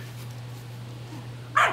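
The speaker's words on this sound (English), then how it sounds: "First bark, Nick, let him run." A Doberman puppy gives a single short, sharp bark near the end, close and fairly loud, after a stretch of quiet room hum.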